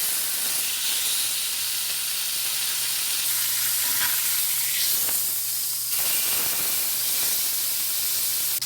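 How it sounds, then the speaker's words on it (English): Beef tenderloin sears in a hot pan with a steady, close sizzle and hiss that swells into a louder burst midway before settling back. No one speaks. "When you sear a tenderloin like this, it kills the juices inside."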